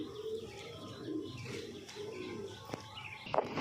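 Pet pigeons or doves cooing softly while they feed, a low continuous murmur of coos with a few faint chirps and brief flutters near the end, no one talking.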